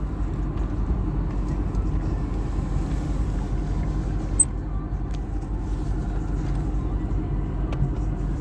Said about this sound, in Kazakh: Кетти ана машина.